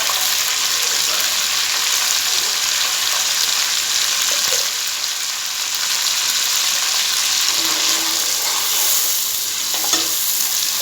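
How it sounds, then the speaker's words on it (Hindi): Whole spices, green and black cardamom with cinnamon sticks, fry in hot oil for a chicken biryani, giving a steady, close, even sizzle and hiss throughout with no voices. "2 से 3 मिनट इसको जो है वो करकरा लेंगे साबुत मसाले को"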